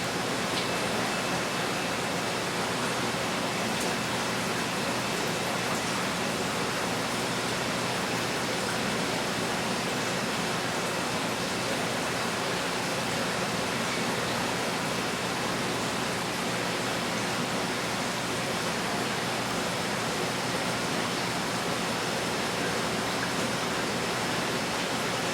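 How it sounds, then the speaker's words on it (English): Water from a hose fills an aquarium, a steady, even rushing flow that holds constant and fairly loud throughout with no other sounds. "and I'm going to start the water."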